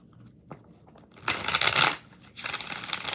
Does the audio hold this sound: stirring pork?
no